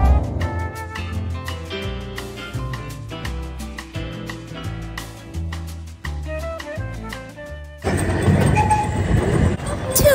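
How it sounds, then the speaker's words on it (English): An amusement park train at Gilroy Gardens rolls along with clattering wheels and toots of its horn, while cheerful music and voices are heard alongside it, ending in a louder burst of noise. "Toot toot goes the train!"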